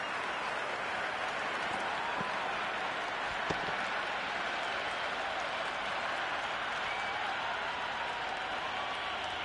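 Steady applause from a large cricket crowd in the video game Cricket 26, rolling on without pause, a broad wash of clapping at moderate distance.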